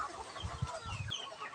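Breeder hens cluck softly in a brief burst of low, throaty clucks, with faint chirping from a flock of chickens close by.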